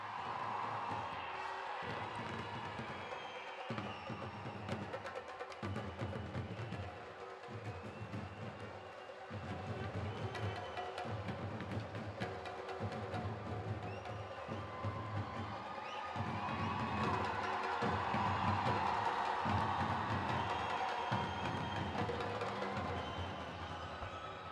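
A large audience at a Ponniyin Selvan song launch event cheers and applauds in a sustained wash of crowd noise welcoming actor Jayaram on stage, with music pulsing underneath.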